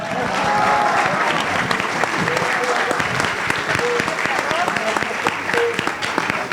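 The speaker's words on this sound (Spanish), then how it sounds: "Un gran aplauso para la hormiga." A political event crowd gives a loud round of applause for Chintolola, an ant mascot. The dense clapping holds steady throughout, with faint voices and a few whistles or shouts mixed in.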